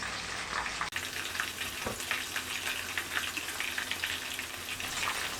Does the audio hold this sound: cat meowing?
no